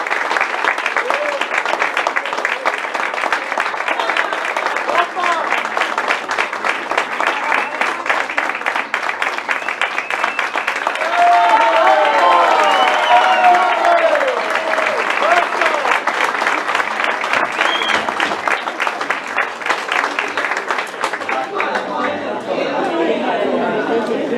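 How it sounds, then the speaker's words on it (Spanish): Sustained audience applause at a Paraguayan cultural night after a demonstration of skill, steady, dense clapping throughout, with crowd chatter and a few voices mixed in. "les pido fuertes aplausos por la demostración de la habilidad de destreza"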